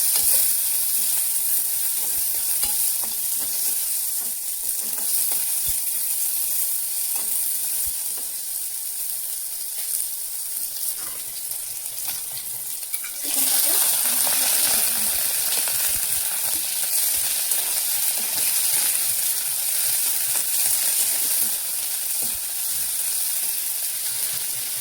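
Onion, garlic and ginger fry with potatoes and tomatoes in a steady hiss. The sizzle swells sharply as the potatoes and tomatoes go in partway through, then stays loud with occasional clinks of the utensil.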